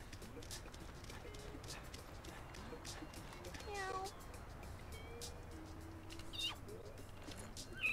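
White cat meowing in the video game No More Heroes, several short faint meows over quiet game background and a talking voice, with a voice also imitating the meow.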